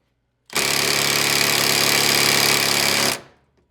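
A pneumatic impact gun turned down to setting 2 hammers loudly at rusty bolts on a square-body Chevrolet Suburban tailgate, running as one steady close burst of about two and a half seconds before stopping abruptly.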